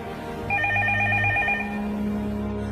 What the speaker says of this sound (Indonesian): Sebuah telepon berbunyi.